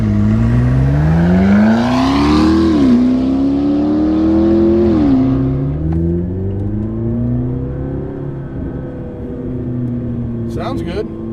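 A 840 HP McLaren MP4-12C engine revs hard through climbing gear pulls, then settles into a steady cruise, loud and close, with a voice talking over part of it.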